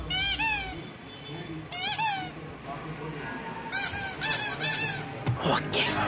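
A squeaky toy ball for a beagle squeals in sharp, wheezy bursts, two near the start and a quick cluster of three or four later, loud and close, with a few faint bumps between.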